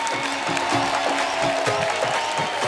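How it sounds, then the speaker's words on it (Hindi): A live audience applauds as film cast members are welcomed onstage for Carry On Jatta 4: a continuous, fairly distant wash of clapping with crowd noise that holds steady throughout. "जोरदार तालियां हो जाए यार"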